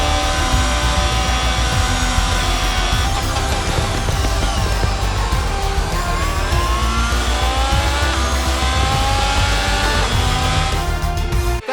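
A Haas Formula 1 car engine in F1 22 screams continuously at close range, its pitch climbing and dropping through gear changes at the Bahrain circuit, loud and steady with no voices.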